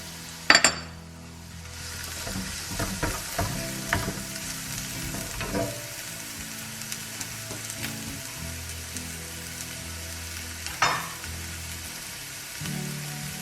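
Chorizo and onion frying in a pan, a continuous close sizzle with repeated scraping and clinking of a utensil as it is stirred, louder knocks near the start and end, no voices.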